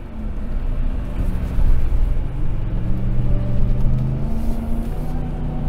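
RAM TRX truck driving off-road on a rally short course chase run in Baja mode with the rear diff unlocked, a continuous low engine rumble with swelling revs and road noise, steady and close.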